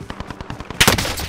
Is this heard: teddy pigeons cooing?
no